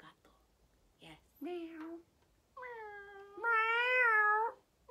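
Human voices mimic a cat's meow in a few drawn-out, rising and falling calls, the later ones louder and longer, with brief talk before them.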